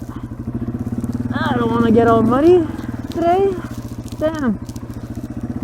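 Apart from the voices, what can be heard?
Yamaha TW200 motorcycle riding on a muddy trail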